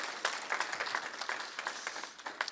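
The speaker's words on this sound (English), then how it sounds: "You're allowed to clap for that too" Applause from the audience at a district policing committees' annual report meeting: a modest crowd clapping in an irregular patter of distinct claps, fairly close, easing off slightly toward the end, with no voice on top.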